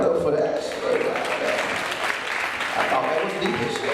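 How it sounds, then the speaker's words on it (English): Audience applause and cheering at a poetry reading, steady and fairly loud through the short stretch, mixed with crowd voices. "Y'all can clap it up for that."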